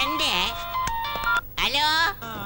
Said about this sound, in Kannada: ಇಲ್ಲಿ ಯಾರ್ದೋ ಫೋನ್ ಮಾಡ್ಕೊತಾ ಇದೆಯಲ್ಲ. ಫೋನ್ ಎತ್ತಾ ಇಲ್ವಿ?